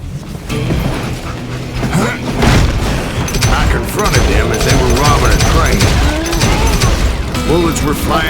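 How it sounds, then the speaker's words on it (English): Gunfire in the Western shooter Call of Juarez: Gunslinger, dense bursts of shots and booms with mechanical clatter, loud and nearly continuous, while a narrator's voice speaks over the fighting. "Bullets were flying at me from every which way."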